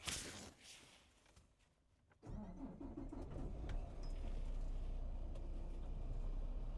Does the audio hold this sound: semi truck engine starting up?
yes